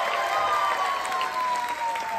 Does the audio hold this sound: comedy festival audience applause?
yes